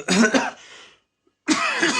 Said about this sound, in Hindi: खांसी वांसी थोड़ा सर्दी से